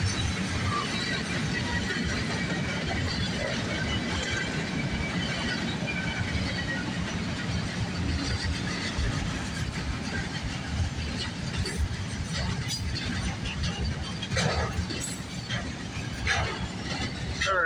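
A CN freight train with three units and no DPU passes at night, making a steady, loud rumble with rolling clatter throughout; faint talk may sit beneath it.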